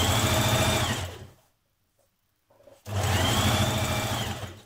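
A sewing machine stitches a double-folded hem on a vintage-style apron, running loud and close in two steady bursts separated by a brief silent pause.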